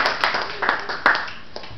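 Scattered clapping from a small seminar audience, a few distinct close claps standing out over a thin, uneven patter of hands, fairly near and loud.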